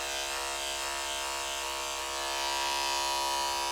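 Electric hair clippers fitted with a thin clipper comb hum steadily while blending straight, light-colored hair, a close constant buzz that swells slightly near the end.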